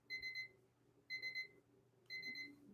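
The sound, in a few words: auction countdown timer beeping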